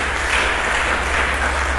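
A church congregation applauding during an Indonesian sermon, a dense, continuous wash of clapping from a large crowd that stays loud and even throughout the short stretch.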